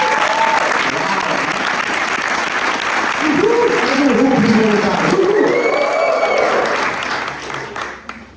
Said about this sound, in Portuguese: Será que a gente pode dar uma salva de palmas para o time, para os voluntários?